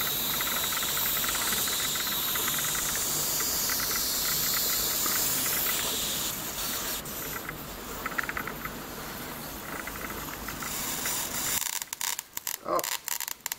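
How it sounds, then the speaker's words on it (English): A high-voltage electrode produces a plasma discharge while hunting for a pinhole leak, giving a steady loud hiss and crackle that runs continuously before breaking into sharp irregular snaps near the end. "I've got a bit of plasma going on there."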